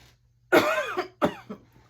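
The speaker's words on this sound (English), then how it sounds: "my coughing won't go away" Two harsh, close coughs come from someone with a lingering flu, the first long and rasping and the second shorter, over faint background hum.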